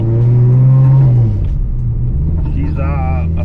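A 245 Hemi engine to E49 spec, with a 500 Edelbrock carburettor on an Aussiespeed four-barrel manifold, pulls away from a 1,000 rpm idle with a loud, deep droning rumble. The pitch drops and settles as the car moves off, and a voice speaks over it.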